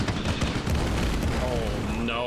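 Rapid bursts of video game gunfire and booms fill a busy, loud mix, with a voice talking over much of the action.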